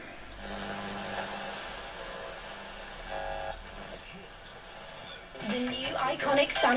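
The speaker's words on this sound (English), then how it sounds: "That noise is just normal because medium wave, long wave is not brilliant" Roberts R600 portable radio tuned to medium wave, giving a continuous hissy static with faint tonal whines and broadcast fragments underneath, rising toward the end with a burst of distant voice.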